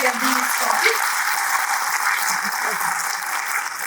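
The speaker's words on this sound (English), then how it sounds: "So can we all give a huge round of applause for Radigree and Shabdin Started?" Audience at a seminar applauding, a dense, steady wash of many hands clapping from a sizable crowd, sustained for several seconds at even loudness.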